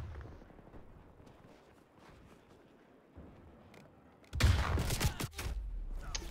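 Gunfire in the Call of Duty Black Ops Cold War multiplayer shooter, a low muffled backdrop of battle that breaks into a sudden loud burst of shots near the end.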